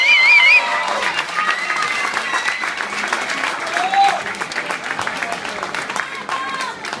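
Applause fills an award ceremony for the Ciaspalonga 2014 snowshoe race: steady, dense clapping from a crowd, with voices and a little cheering mixed in throughout.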